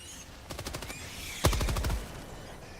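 Video game gunfire against bugs: a quick burst of rapid automatic shots is followed by a louder, heavier blast with a booming low tail, all close and loud.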